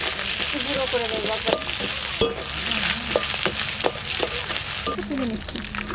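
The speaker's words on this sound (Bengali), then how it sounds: "মাথাটা ভাজা হয়ে গেছে, এবার ভেঙে ফিরে গুঁড়ো করে দেবো" A fish head frying in a pan while being stirred: steady close sizzling with repeated scraping and clinking strokes of the stirring utensil throughout.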